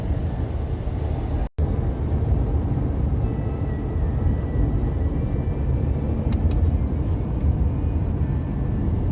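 A steady low road rumble and engine drone fill the car while it drives on a road, with a brief dropout near the start and no talking.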